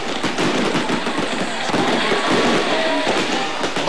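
Aerial fireworks bursting in a dense, continuous barrage of crackles and booms at a New Year display in Bulacan, loud and sustained with whistling streaks throughout.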